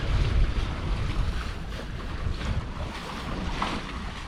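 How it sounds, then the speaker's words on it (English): Wind on a sailboat cruising between the Loreto Islands off Baja: steady gusting rumble buffeting the microphone, with water rushing along the hull, loud and continuous, no talking. "the wind pipes up between the islands. A little funnel effect through these channels."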